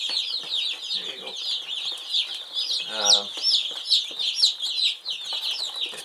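A crowd of Cornish cross meat-bird chicks peeps constantly under a red infrared heat lamp in a brooder, dense high chirping close by, with a brief low cluck partway through.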